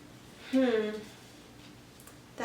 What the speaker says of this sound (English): That's my cat, if you heard that noise.